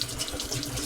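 Tap water runs steadily over a painted piece being washed, a close, continuous splashing rush of water from a faucet with no voices.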